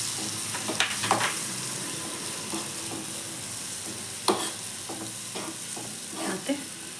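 Chopped carrot, beans and cabbage fry in melted butter with a steady, even sizzle, broken by occasional scraping and clinks of stirring.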